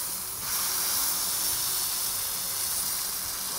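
Steak and potatoes sizzle on a Blackstone griddle, a loud, steady, bright hiss of frying that continues without a break, with no voices over it.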